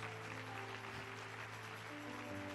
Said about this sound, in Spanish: Otro aplauso para nuestra niñez.